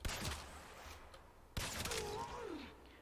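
Cernos Prime bow shots hitting a corrupted heavy gunner in Warframe land as two sharp impacts about a second and a half apart over a quiet, textured game background.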